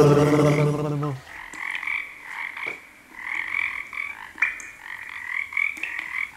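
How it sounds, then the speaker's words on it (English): Jungle frogs croak in repeated raspy bursts with short pauses, loud and close, following a brief sung passage from a voice at the start. "That's what frogs actually say, really, isn't it? Some frogs that live in the jungle anyway."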